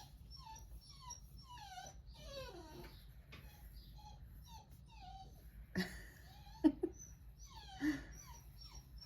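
A dog whimpers and cries indoors in a series of thin, rising whines, fairly quiet and close, with a few louder yelps toward the end and no talking.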